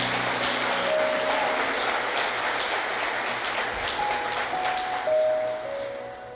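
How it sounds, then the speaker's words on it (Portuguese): A church congregation applauds in a broad, steady wash of clapping that carries through the whole stretch, fairly loud, with a faint organ or keyboard tone lingering underneath. "dê um aplauso a Jesus por isso"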